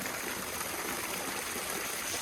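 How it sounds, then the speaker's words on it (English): Water trickles steadily into a small waterfall pool on a countryside circular walk between Eridge and Frant, a continuous, even wash of flowing water with no voices. "Bit of a waterfall pool thing."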